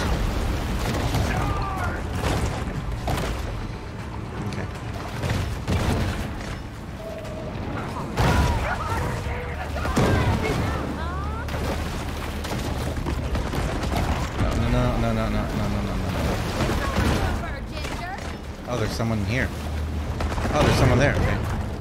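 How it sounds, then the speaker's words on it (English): Explosions and booming blasts rumble underwater in the shark video game Maneater, layered thickly over a continuous roar of game effects while someone talks throughout. "Oh, they've got explosions too."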